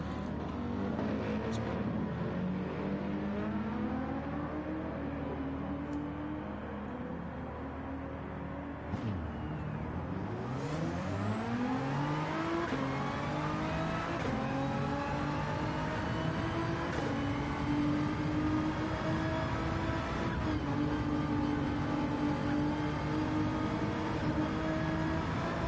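A Nissan GT-R engine in Gran Turismo 7 revs up through sweeping rises in pitch, climbing and shifting repeatedly in a continuous, moderately loud roar.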